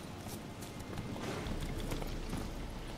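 Horse hooves clip-clopping in The Witcher 3: Wild Hunt, a steady galloping rhythm of repeated hoof strikes over continuous ambient game noise.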